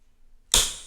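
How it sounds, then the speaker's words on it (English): Rubber bands snapping off rolled diamond painting canvases: one sharp, close snap after a moment of near silence, fading quickly. "So we're going to pull the rubber bands off."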